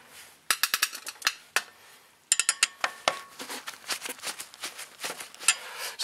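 Snap-on precision-machined screwdriver backing out a screw during rear brake pad and rotor work on a 2003 Honda CR-V, a close run of sharp metallic ticks and clicks in uneven bursts.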